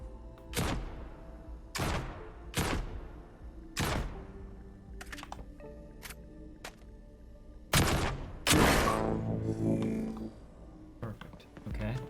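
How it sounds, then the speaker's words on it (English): Pistol gunfire in a video game, a series of sharp separate shots with ringing decays spaced about a second apart, some clustered closer together, loud against a quiet background. "So now let's fire off our few rounds."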